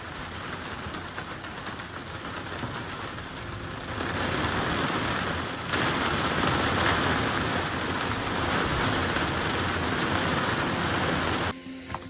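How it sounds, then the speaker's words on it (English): Heavy rain in Maniwa City, Okayama, Japan, in mid-September, a steady dense hiss that grows louder partway through and carries on without pause, with no voices. "It's mid-September right now, and really super rainy in Japan, and especially here in Maniwa City in Okayama."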